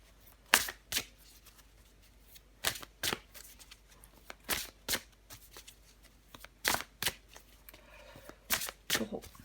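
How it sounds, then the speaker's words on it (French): Tarot cards are shuffled and drawn close by in repeated crisp riffling bursts, separated by short quiet gaps, with no voices. "Je vais encore tirer une carte pour vous, les taureaux."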